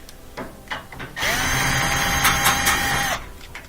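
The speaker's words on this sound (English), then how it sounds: "We got out that screw, and we got one over here, same thing." A power drill backs a screw out of a laundry center panel, a few short taps and clicks followed by a loud, close, steady whine of about two seconds before it stops.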